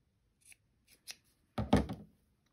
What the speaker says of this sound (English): I'm just going to take and cut that off